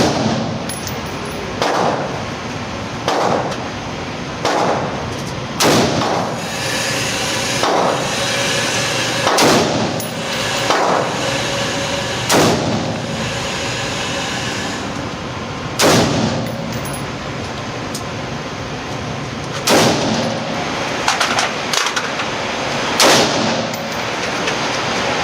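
Rifle shots at an outdoor shooting range, fitted with a Meprolight M21 reflex sight, crack out one at a time at irregular intervals across the stretch, each a sharp loud report with some ringing echo.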